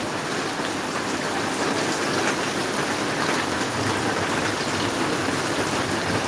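Heavy rain pouring down in Maharajpur, a dense, constant hiss of drops close by with no breaks and no voices.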